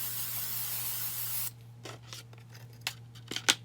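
Apple Brand Gardé Rain protector sprayed onto Vachetta leather bags: a long steady hiss, then a series of short, sharp aerosol bursts, close and loud, with no talking.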